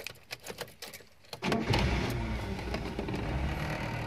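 A 1995-or-newer car with power steering and power windows cranks and fires up after a few quiet clicks, then settles into a steady, close idle that continues to the end.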